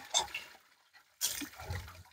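Water poured over a person's head and ear during a bath, in two close splashing bursts, the second longer and continuing, with faint voices nearby.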